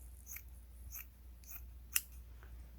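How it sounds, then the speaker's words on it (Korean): Fabric scissors snip through cloth in a few soft, evenly spaced cuts, with one sharper click near the end; quiet and close, with no talking. "원단을 자르는 가위로 이 원단을 잘라주시는데요"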